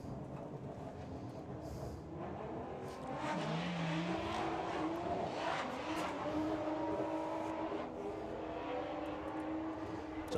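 Modified Audi A3 and VW Jetta in a drag race qualifying run at Festival of Power 2019: a continuous loud engine roar with rising revving tones, steady throughout with no talk.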